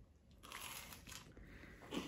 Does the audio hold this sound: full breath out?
no